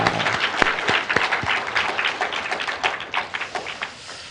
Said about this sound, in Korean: 우리 서로가 서로를 축복하며 한 번 더 박수하십시다